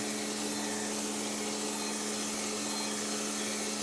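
A crankshaft grinder works a scratched journal on a Mercury 255 flathead crankshaft, giving a steady, continuous grinding whir with a constant low hum beneath it, loud and unbroken throughout.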